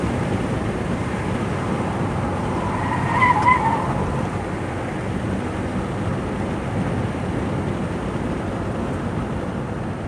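A 2018 Kia Forte corners with understeer, its tires giving a brief squeal over a steady, close road and engine rumble from inside the car.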